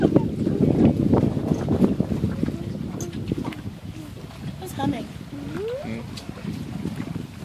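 Wind buffets the microphone over the low churn of a boat moving across water, with people talking now and then over the noise.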